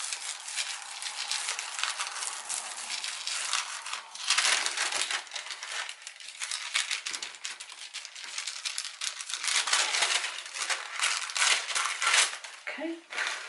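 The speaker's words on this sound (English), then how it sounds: "I think I'm going to use tissue paper for this. Just get rid of this bit of build-up here" Tissue paper crumples and crinkles as it wipes paint build-up off a gel printing plate, a close, busy run of rustling and scrunching bursts with brief pauses between them.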